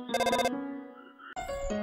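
A cell phone rings in the video game Undertale: a bright electronic chiming tone in short bursts, then a sustained note and a second higher chime, loud and clear with no talk over it.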